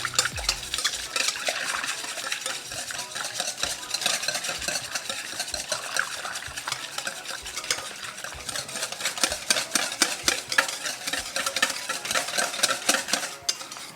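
Continuous fast scraping and clinking of a utensil whisking okoy fritter batter of eggs and water in a bowl, a steady close rhythmic stir running throughout with no talking.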